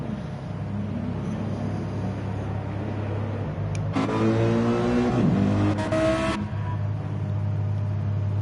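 Race car engines in a video game during qualifying at Monza, with a steady low engine drone throughout and a louder car passing by in the middle before the sound settles back.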